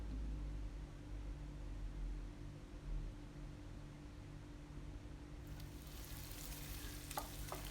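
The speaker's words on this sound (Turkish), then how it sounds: "Artık kapya biberim ve yeşil biberimi ekliyorum. Biberlerim yumuşayıncaya kadar pişiriyorum." Red and green peppers frying in a pan for a vegetable and chicken orzo pilaf, a soft steady sizzle that grows into a brighter crackle near the end, with faint stirring scrapes. No talking.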